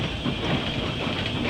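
A steam locomotive hauling a coal train of black colliery wagons begins to move, heard as a loud, close, steady rumble with a hiss and faint clanking from the wheels and motion.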